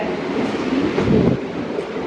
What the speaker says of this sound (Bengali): ফাইনালি ট্রেন চলে এসছে তোমরা দেখতে পাচ্ছ তিনের এই নম্বর প্ল্যাটফর্মে